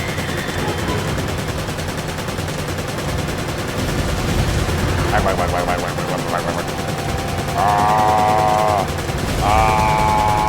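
Gunfire from the video game Resident Evil 5, a steady wash of rapid game shots with electronic tones and soundtrack layered over it at fairly constant loudness.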